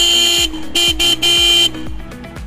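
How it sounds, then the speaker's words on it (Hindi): Dual chrome-finish horn on a 2022 Honda H'ness CB350 BS-VI motorcycle sounding in loud, close blasts: two short honks, then a longer held one, each followed by a brief ringing tail. "इसमें एक हॉर्न ये है और एक हॉर्न ये रहा, डुअल हॉर्न दिया गया है विथ क्रोम फिनिश"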